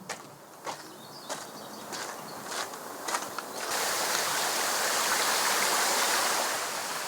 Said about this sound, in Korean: 이제까지 간간히 들리던 도로의 소음도 들리지 않고 맑은 물소리만이 푸른 숲 속에 울려 퍼집니다